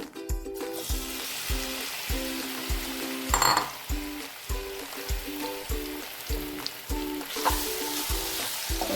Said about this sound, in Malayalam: അതിലേക്ക് കുറച്ച് നെയ്യ് ഒഴിച്ചു കൊടുക്കാം നമ്മൾ അരിഞ്ഞു വെച്ചിരിക്കുന്ന പഴം അതിലേക്ക് ഇട്ട് കൊടുക്കുകയാണ്